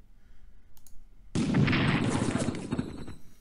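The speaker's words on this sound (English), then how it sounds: "We don't always get that double shot with the Katyusha rockets, but in this case you do." Katyusha rocket artillery fires in Strategic Command WW2: after a few quiet clicks, a sudden loud roaring blast erupts and sustains as a rumbling, crackling barrage that slowly fades.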